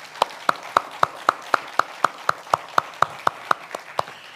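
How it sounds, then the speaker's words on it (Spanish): A church congregation claps during a sermon, a crisp, rhythmic beat of single strong claps, about sixteen evenly spaced over four seconds. "Dale el aplauso al Rey de Reyes."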